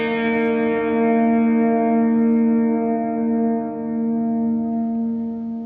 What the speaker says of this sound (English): There was this sudden swell when I held the pedal.